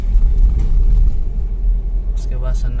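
An auto rickshaw passes close by on a quiet night road, producing a loud, continuous engine rumble that fills the whole moment.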